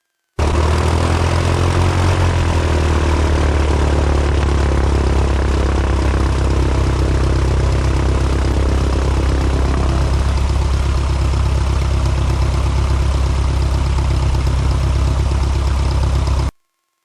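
A Piper light aircraft's propeller engine runs at idle on the ground, a loud continuous close drone with a steady low throb that shifts slightly in pitch partway through, then cuts off abruptly at the end.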